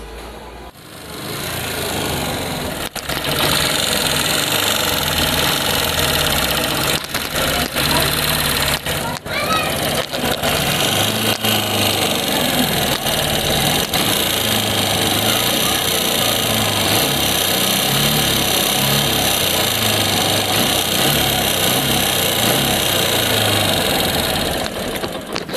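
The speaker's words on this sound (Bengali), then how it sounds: "বাইকের সাউন্ডটা শুনতেই পারছেন।" A Suzuki Gixxer SF FI motorcycle engine with tappet noise runs loud and close, a harsh continuous drone laced with rapid metallic ticking and rattling that starts after a short quiet opening.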